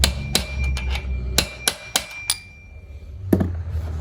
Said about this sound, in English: I like to take my punch and put on the back side and just lightly tap it